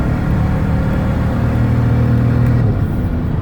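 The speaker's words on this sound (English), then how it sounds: "So I'll get this van up to about 70 miles an hour if I can." A 2004 Chrysler Town & Country wheelchair van accelerating on the road toward highway speed. A loud, steady low engine drone and road rumble are heard from inside the cabin, and the pitch shifts slightly near the end.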